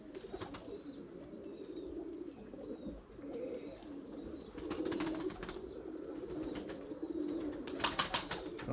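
A pigeon in a coop coos in low, rolling phrases repeated throughout, with occasional sharp bursts of wing flapping close by.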